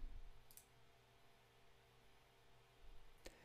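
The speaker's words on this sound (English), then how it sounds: "I'll go ahead and click publish." A single mouse click on a software publish button sounds twice as a faint, crisp tick against quiet room hiss.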